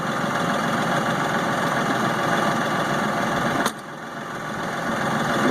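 An LS XR 4155 tractor engine runs with a steady, dense drone near the microphone, briefly dropping in level at one point before settling back to an even running hum.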